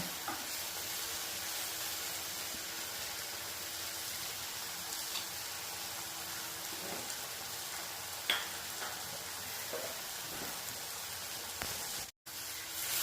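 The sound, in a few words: brinjal frying and being stirred in an open pan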